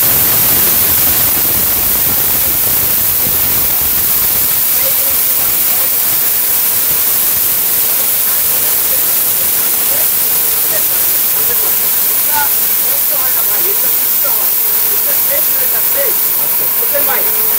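A powerful steel-bodied robot blender grinding hard lentils, a loud, constant roaring whir that fills the whole stretch without pause.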